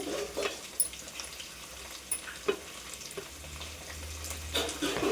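Chopped tomato frying in a pan, with a steady close sizzle and a few clinks of stirring throughout.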